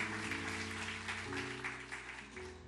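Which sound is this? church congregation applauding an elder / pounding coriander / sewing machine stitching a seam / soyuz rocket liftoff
church congregation applauding an elder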